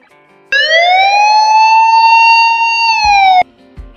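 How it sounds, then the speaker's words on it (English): A police car siren sounds one loud, sustained wailing tone that rises, holds and then cuts off, heard alone with brief thumps after it. "police car"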